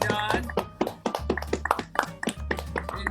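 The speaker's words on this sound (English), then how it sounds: "let's give a big round of applause for John Towsen" Applause from a live show audience after a performer is introduced, claps rising in dense bursts with an emcee's voice and music running underneath.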